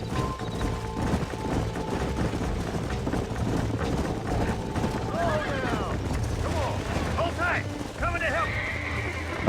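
A horse being broken in Red Dead Redemption on PS5 clip-clops and snorts beside game mechanisms, with whinny-like cries rising late, all under a steady game soundscape.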